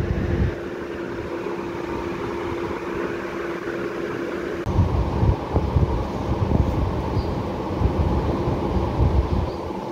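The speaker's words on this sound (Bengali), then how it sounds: "খুব হাওয়া দিচ্ছে জানো।" Strong wind blows outdoors in a steady, loud rush with low rumbling gusts, growing rougher and heavier midway through, with no talking.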